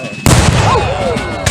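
A single loud, sharp report from Civil War reenactment gunfire or cannon fire at Sully Plantation bursts out suddenly and close, then rings and decays over the following second.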